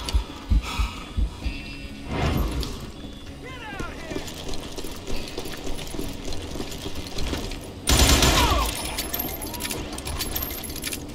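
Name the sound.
gunfire in Call of Juarez: Gunslinger video game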